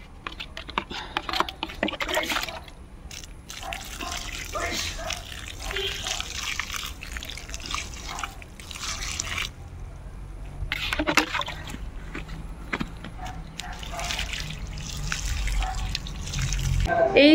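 Water being poured onto dried-out papaya plants, a steady splashing and dripping trickle that runs for a long stretch, with faint voices now and then.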